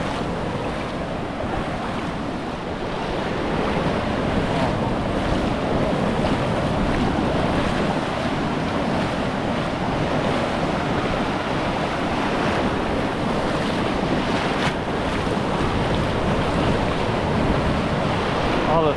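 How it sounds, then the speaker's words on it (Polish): Waves of the Arabian Sea at Salalah, Oman, surge and wash ashore continuously with a steady roar of surf, wind buffeting the microphone, no talking heard. "Ale fajowe te fale"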